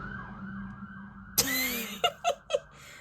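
An ambulance siren wails from a distance, followed by a sharp hit and a few quick bright bursts of sound.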